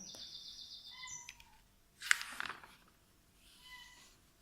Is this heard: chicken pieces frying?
no